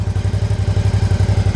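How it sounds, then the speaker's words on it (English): A 2017–2018 Suzuki V-Strom 650 XT motorcycle engine runs close by with a steady, rhythmic low thumping pulse, loud and alone. "Okay, let's start the bike up."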